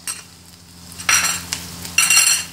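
Onion and garlic paste fries in a pan, heard as a soft sizzle under close bursts of stirring, with a utensil scraping and clinking against the pan twice, loud and near, and no one speaking.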